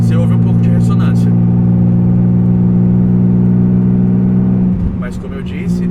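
Deep, droning exhaust of a BMW E36 fitted with an RR muffler, held at 2000 rpm and 80 km/h under full throttle uphill, a steady resonant hum close by that drops and shifts near the end.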